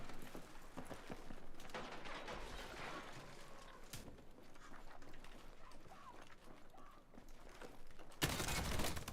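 Battlefield 6 Redsec gameplay carries a dense, continuous wash of gunfire, with rapid bursts and sharp shots over a rumbling battlefield din, some nearby and some distant, and a louder crackling flare near the end.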